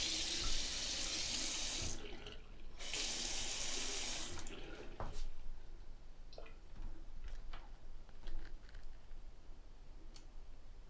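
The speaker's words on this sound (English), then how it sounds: "We'll turn our water back on." Water runs from a repaired Pfister bathroom faucet, a steady hissing flow that starts strong, cuts off briefly, then continues more softly with small clicks and taps.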